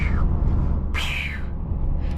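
A short hissing whoosh of a turbo blow-off valve bursts out once over steady low engine and road noise inside a moving 2023 Toyota GR Corolla.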